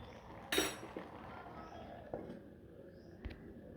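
A lid is set on a cooking pot of simmering amaranth greens, giving one clear clink followed by a few lighter taps, fairly close, over a quiet kitchen background.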